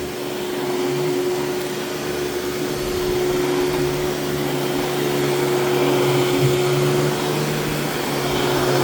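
A Royal Deluxe Power Team vacuum cleaner running, a loud, steady motor drone with a constant tonal whine, close and continuous throughout with no speech.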